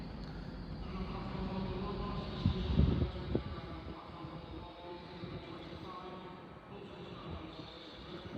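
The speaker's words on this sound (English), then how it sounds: "Also arriving in now is a terminating East Midlands Railway Turbo Star from Spalding via Lincoln Central." An East Midlands Railway Turbostar diesel unit pulls into Doncaster station, heard at a moderate distance with rail rumble and brief wheel and brake noises. A voice speaks over it.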